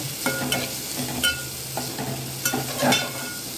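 Onion and masala being stirred and fried in a pan: repeated scraping strokes of a spoon at irregular intervals over a soft, constant sizzle.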